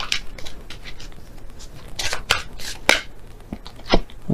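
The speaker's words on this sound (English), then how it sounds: "So I'll shuffle again and see which one comes out." Tarot cards being shuffled by hand, a series of short papery riffles and slaps in irregular bursts, close and fairly crisp, with faint room noise between them.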